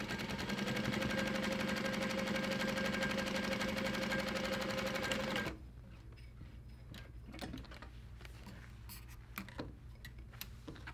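Juki DU-1181N7 industrial sewing machine running steadily while top stitching, a loud continuous whirring hum for about five seconds, then stopping abruptly into quieter clicks and handling noises.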